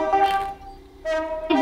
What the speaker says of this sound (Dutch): Ik hoor een trein toeteren van Kremlin.